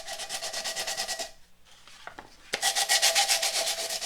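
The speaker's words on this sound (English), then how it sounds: "got my sandpaper. I'm gonna sand" Sandpaper rubbed back and forth on a metal can to rough it up for paint, quick rhythmic scratchy strokes, close and steady, with a short pause before the sanding resumes.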